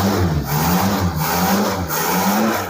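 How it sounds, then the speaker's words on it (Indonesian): A Suzuki Jimny Katana engine with a carburetor, just revived after sitting unused a long time, runs loudly close by and is revved lightly in a few gentle swells over its steady idle. "ini bisa kita gas dikit-dikit."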